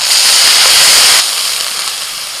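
A splash of water hits spice paste of ginger, garlic and green chilli frying in a pan, and a loud burst of steamy hissing sizzle follows, easing slightly after a second but continuing throughout.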